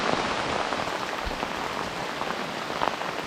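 Heavy rain pours steadily on the Appalachian Trail at Bly Gap on the North Carolina–Georgia border, a dense hiss of drops pattering on surfaces with no voices.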